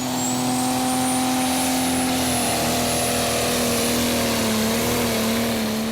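A Prostock pulling tractor, Sigma Power, makes its run at the 2014 Eurocup in Brande, Denmark, its engine a loud, sustained roar with a steady droning pitch that climbs and wavers slightly as it pulls.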